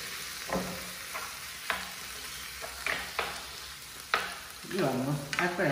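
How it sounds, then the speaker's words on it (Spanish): Seafood sautéing in a pan for a Pacific-coast dish at a food festival: a near sizzle broken by several sharp stirring clacks, busier toward the end. "a agregar los mariscos."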